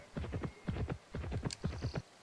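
Horse hooves clip-clop in quick, even bursts of steps as a horse is ridden in the Petz Horsez 2 video game on PS2, close and clear with short pauses between strides.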